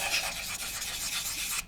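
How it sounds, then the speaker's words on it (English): A sanding stick rasps back and forth over a plastic 1/48 scale X-47B model to smooth off glue marks, a close, steady scratchy rubbing in short strokes that stops abruptly at the end. "we make sure we get rid of any kind of glue marks and get this all sanded nicely"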